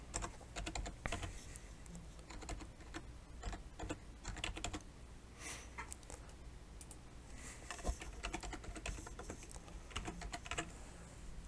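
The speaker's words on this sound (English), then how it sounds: "once you start typing your password in" Rapid, uneven clicking of keys as a password is typed on a computer keyboard, close and fairly quiet, in bursts with short pauses and no talking.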